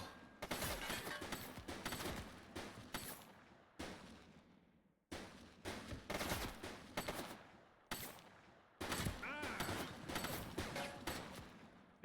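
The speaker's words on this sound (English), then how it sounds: "He's shooting!" Video game Precinct: heavy bursts of gunfire in repeated volleys, dense and loud, each cutting off abruptly before the next round starts, with no talking over it.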